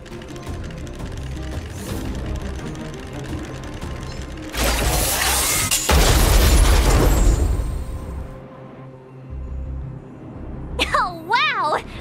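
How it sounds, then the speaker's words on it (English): An explosion goes off in Honkai Star Rail, a loud burst with a crackling, rumbling tail that swells for a few seconds over mechanical clicking game sounds and music, then subsides. "We wiped them all out in a single explosion!"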